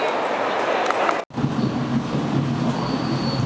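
Rumble and rattle fill a moving commuter train's interior from Grand Central toward Beacon, New York, a steady loud roar with a brief dropout, and a voice talking over it.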